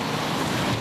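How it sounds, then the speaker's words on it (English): Fierce wind and heavy rain from a severe storm in eastern Canada, a dense, steady roar of rushing wind and water that fills the short moment at constant loudness with no voices. "A severe weather system is blowing through eastern Canada, bringing fierce winds and heavy rain."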